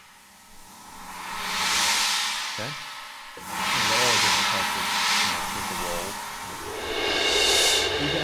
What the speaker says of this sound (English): And then we have a sizzle cymbal.